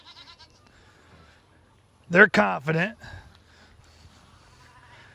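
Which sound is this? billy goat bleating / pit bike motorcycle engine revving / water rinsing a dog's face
billy goat bleating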